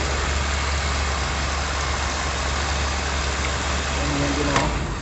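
A 1991 Dodge Ram B250 van engine idles steadily with a low, constant rumble that holds even throughout, close and fairly loud, with a brief faint tone near the end.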